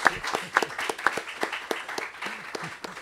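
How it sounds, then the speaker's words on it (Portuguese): Audience applause after a lecture, sparse and uneven with scattered hand claps of varying loudness, fairly close, and some voices underneath. "Acho que vale mais uma salva de palmas, né, professor?"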